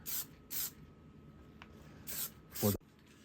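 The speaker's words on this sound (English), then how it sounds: "I'm going to go over it with a kind of a matte sealer" Short bursts of matte sealer spray over a painted mask, four separate hisses of roughly a quarter second each, close and fairly loud, with quiet gaps between them and a brief rattle near the end.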